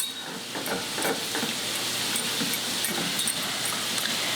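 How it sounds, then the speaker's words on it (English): Ginger, garlic and pork cook slowly in a pan while being stirred, giving a steady, moderate sizzle with soft scraping strokes throughout. "we turn the fire on and we cook this very, very slowly"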